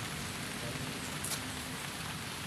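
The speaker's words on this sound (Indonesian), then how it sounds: "Ya mungkin ini berhubung hujan teman-teman" Steady rain falls at an outdoor spot near a sacred grave site, a continuous even hiss of drops on surfaces with faint voices in the background.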